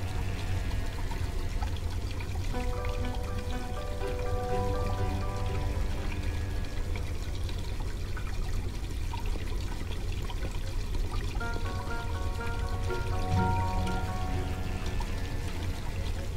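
Boiling hot water pours steadily in the Black Mirror II adventure game, a soft continuous stream running on for many seconds under faint background music.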